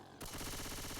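A shotgun fires in an online multiplayer shooter match, a loud, dense burst of rapid blasts that starts abruptly and fills the moment.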